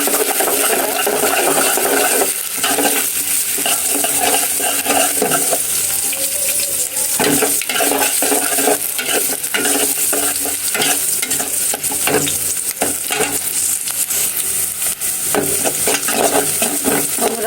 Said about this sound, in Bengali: পেঁয়াজগুলো ভাজা ভাজা হইলে হালকা করে একটু বাদামি বাদামি কালার আসবে